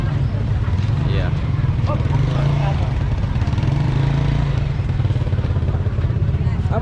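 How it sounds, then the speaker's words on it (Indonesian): Motorcycle engines idling and revving through a crowded Palembang morning street market, blended with steady chatter and general bustle. "Ada beca, ada motor di sini ya."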